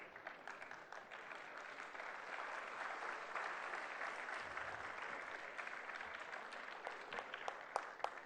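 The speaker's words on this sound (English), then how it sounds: "The applause should keep coming." A large audience applauds steadily at a literary festival award ceremony, dense clapping filling the hall throughout with a few sharper claps standing out near the end.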